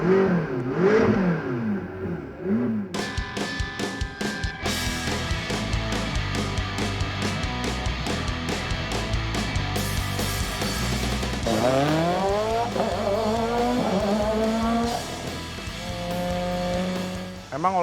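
A Japanese supercar accelerating hard, its engine revving up through rising pitch sweeps with gear changes, loud and close, the strained whine climbing repeatedly before easing off near the end.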